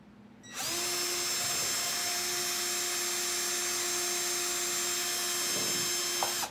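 A power drill runs continuously while driving screws into metal for a decorative water hose hook, starting abruptly with a steady, loud whine that holds for several seconds before cutting off.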